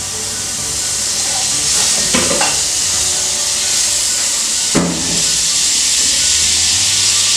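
Unsalted butter melts in a pan on a stovetop turned up high, giving a steady, loud sizzle and hiss throughout, with a couple of sharper crackling bursts partway through.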